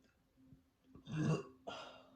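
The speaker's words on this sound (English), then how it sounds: "I feel like I burp in all my videos" A single throaty burp rises from near silence, close and fairly loud, with a second shorter eructation following right after.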